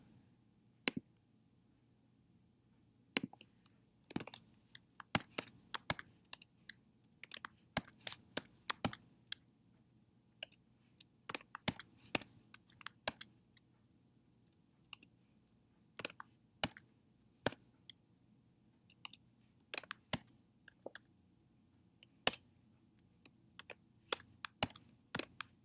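Computer keyboard typing in quick irregular bursts of crisp clicks, close and fairly loud over a low steady hum, with short pauses between runs of keystrokes; no voices.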